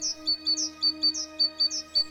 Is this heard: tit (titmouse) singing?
yes